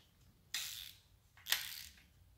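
A torque wrench tightens engine bolts to 18 foot-pounds on a 2008 Chevy Colorado 2.8 short block, giving two quiet ratcheting bursts about a second apart in an otherwise hushed setting.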